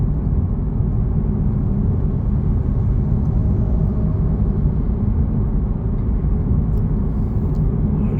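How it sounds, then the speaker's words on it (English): Steady, dense low rumble of heavy highway traffic, engines and tires blending into a constant close roar with no break or talk. "This is a mad kind of traffic."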